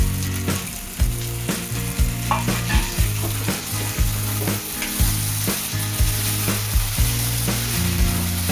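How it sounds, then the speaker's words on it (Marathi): Washed masoor dal being stirred and sautéed with cluster beans (gavar) in a pan, a loud continuous sizzle broken by regular scraping strokes of a spoon about once a second, with no one talking. "डाळीला परतून घ्यायचं आहे व्यवस्थित."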